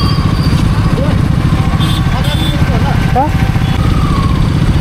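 A new motorcycle's engine runs steadily at idle close by, a continuous low rumble throughout, with people talking over it.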